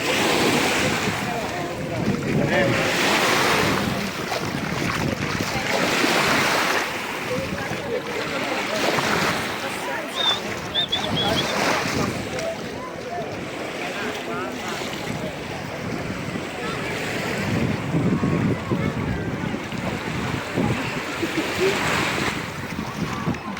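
Sea waves wash in and out on a beach in Tuscany, Italy, in steady swells, mixed with rushing wind noise, continuous and fairly close, with no voices.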